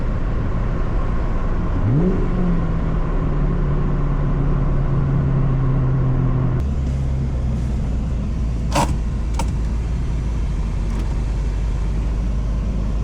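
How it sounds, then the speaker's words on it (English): Ford Mustang with a 302 V8 driving, a loud steady low engine rumble that rises in pitch as it accelerates, then settles into a deep drone with a couple of brief clicks or knocks. "Even for like a little 302 with like 200, 300 something horsepower, it moves just because of the torque it has."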